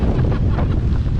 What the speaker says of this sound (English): Easily 30 mile an hour winds here without the gust.